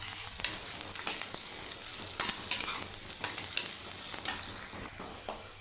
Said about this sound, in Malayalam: വീണ്ടും ഒന്ന് ഇളക്കി കൊടുക്കുക.